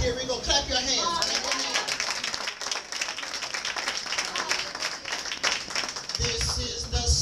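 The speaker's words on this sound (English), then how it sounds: "Here we go. Clap your hands." A church congregation claps their hands during Pentecost praise and worship, a steady dense clapping that runs through the whole stretch, with voices and music under it.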